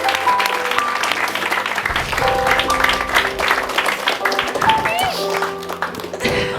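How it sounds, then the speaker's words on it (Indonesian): An Indonesian TV studio audience claps and cheers, with music and a presenter's voice running over the applause, which swells and dips unevenly throughout. "Tepuk tangan buat Raffi."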